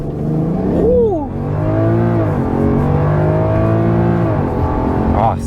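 A BMW F10 sedan accelerating hard through a full-throttle pull, its loud engine note climbing steadily and carrying on without a break through the gear shifts, recorded from inside the car, with a voice briefly heard over it.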